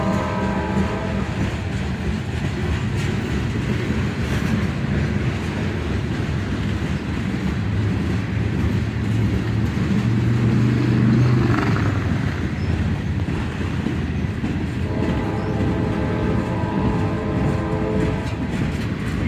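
A manifest freight train with mixed cars rolls past close and loud, a continuous heavy rumble of wheels and cars with faint horn-like tones rising briefly near the middle and again toward the end.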